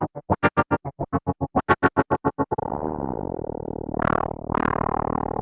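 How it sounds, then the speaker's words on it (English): Electric guitar runs through a Spectravox unipolar VCA used as a ring-modulator-style effect. Sharp, evenly pulsed chopped notes give way to a sustained, clangorous, metallic drone that swells near the end. "And get into kind of clangorous ring mod textures"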